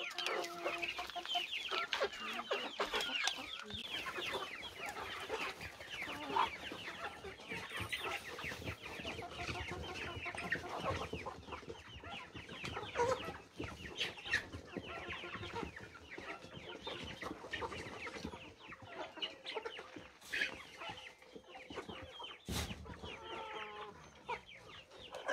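A flock of backyard chickens clucks and chatters continuously before feeding on a rural homestead, with occasional louder squawks and a brief distant crow, all at moderate distance with no talking.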